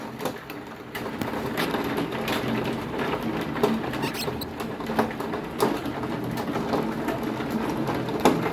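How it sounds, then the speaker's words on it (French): Hail patters and clicks continuously against surfaces in a vegetable garden, a dense crackling rain of small hits with sharper taps scattered throughout. "Ça y est, ça grêle."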